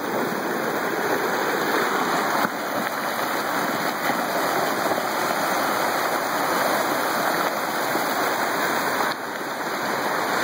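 An enormous volume of rushing water roars without pause, a dense, loud and close wall of churning flow that holds steady throughout.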